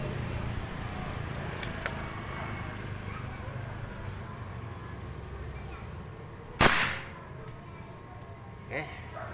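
A single sharp crack from a Beeman Kodiak air rifle fired at a clay target outdoors, loud and close, with a smaller tap a couple of seconds later over quiet background ambience.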